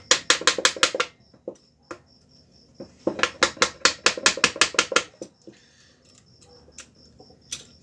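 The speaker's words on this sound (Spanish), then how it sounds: "vamos a agarrar el martillito" A small hammer taps on a bent part of a Honda Biz C100 motorcycle engine during disassembly, sharp metallic strikes in quick bursts of several blows with pauses between, close and loud, with faint metallic ringing in the gaps.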